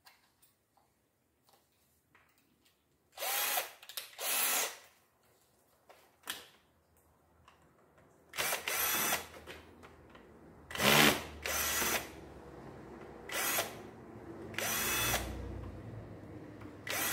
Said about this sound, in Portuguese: agora a gente vai utilizar uma chave Phillips para remover alguns componentes.